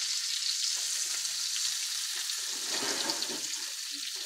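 Butter sizzling in a pan with beef drippings from meatballs, a steady close crackling hiss that flares a little louder partway through, with no talk.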